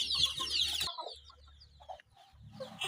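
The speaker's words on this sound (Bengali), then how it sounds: "এখানে অনেকগুলো বাহামা মুরগির বাচ্চা মজুদ রয়েছে।" Many Bahama chicken chicks kept together, giving shrill, dense cheeping up close that breaks off suddenly, followed by quieter scattered calls and a brief return of chatter.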